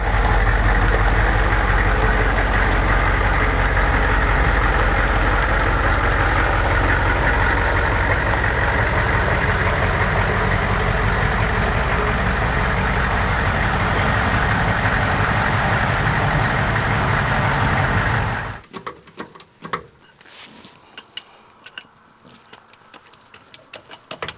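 A HMMWV engine rumbles loudly and steadily at close range while the vehicle is moved under a roof, then cuts off sharply near the end, leaving quiet scattered clicks and knocks.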